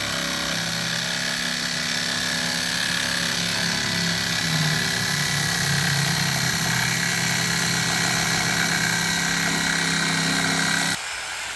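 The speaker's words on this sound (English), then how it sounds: "The old jigsaw." An old jigsaw runs steadily at close range, a continuous loud motor drone with a buzzing vibration that cuts off abruptly near the end, heard outdoors while working on a shed interior.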